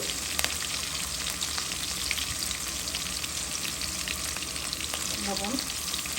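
Chopped onion and green chili frying in hot oil in a pan, giving a thick, even crackling sizzle with small spitting pops, close and unbroken from start to end.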